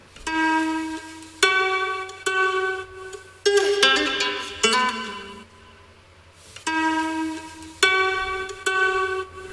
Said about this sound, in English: record a fun little guitar melody